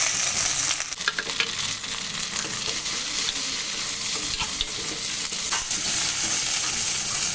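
Onions and tomatoes fry in a pan, a dense, continuous sizzle heard close up with faint scraping and stirring throughout, loud and steady, with no voices.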